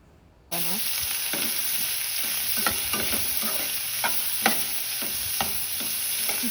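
Fennel seeds and two chopped onions hit a hot pan and burst into a steady, loud sizzle, with a spatula scraping and clicking through the frying every second or so.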